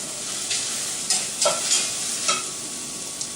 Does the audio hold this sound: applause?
no